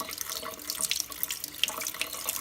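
Tap water splashes steadily into a sink while bird seed sprouts are rinsed, a close, continuous running-water hiss with no voices.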